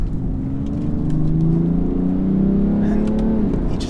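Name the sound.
2017 BMW 335d diesel accelerating 0 to 60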